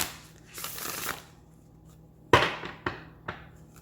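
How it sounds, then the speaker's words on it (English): Tarot cards are shuffled by hand in a few quick riffling bursts, one long rustle followed by several sharper snaps, close and alone in a quiet room. "I don't know why it's taking so long for me to get a good shuffle."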